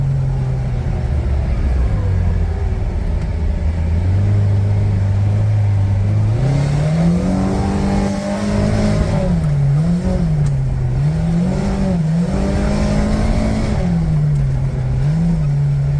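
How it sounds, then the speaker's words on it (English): A Kawasaki Ridge utility vehicle engine drones steadily, its pitch rising and dipping as the transmission whines while driving, loud and continuous with no pauses. "Seems like the transmission's a little less loud, not winding up as much."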